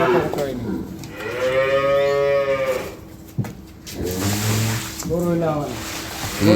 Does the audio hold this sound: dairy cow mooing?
yes